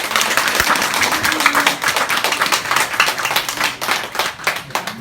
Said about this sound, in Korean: 격려하는 의미에서 박수를 한번 해주시기 바랍니다.